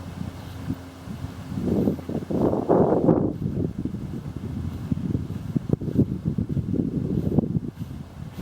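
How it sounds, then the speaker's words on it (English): Wind gusting across a microphone outdoors at an abandoned school site, a low rumbling buffet that surges and keeps up steadily throughout, with no talking. "How's that wind?"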